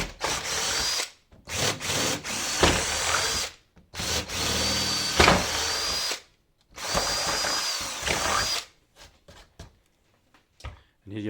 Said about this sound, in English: And then move up to a larger drill bit, your 12mm that you're going to finish with.